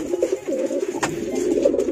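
A pet pigeon coos close to the microphone in a soft, rolling burst with a brief click midway, nothing else competing.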